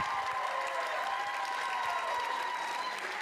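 An audience applauds dancers at a local ballroom dance competition, a steady, dense wash of clapping that holds at an even level throughout, with faint cheering underneath.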